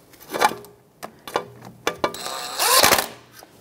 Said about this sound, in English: That's a 10 millimeter socket. We're just going to snug it up lightly